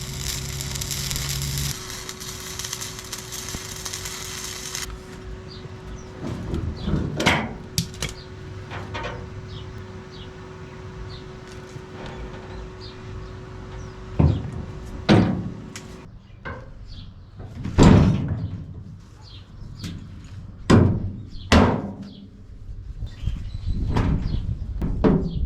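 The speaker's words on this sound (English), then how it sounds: "So now I'll just tack a big handle on here to see if I can crank it down with my hands." Hand-cranking a handle on the front mechanism of a homemade amphibious ATV produces a series of scattered mechanical clunks, clicks and ratchety knocks, some sharp and close, spread unevenly over a quiet background hum.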